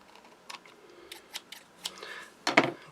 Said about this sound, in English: Got a couple of pips on here that are a bit proud. Just going to cut them off with my scissors.